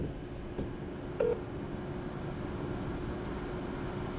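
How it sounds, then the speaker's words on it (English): A single short telephone keypad tone sounds once, briefly, over a steady low hum while a phone number is dialed. "So yeah, so I phoned HEDI Fry"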